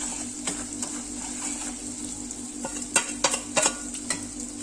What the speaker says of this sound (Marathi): याची छान अशी फोडणी करून घ्यायची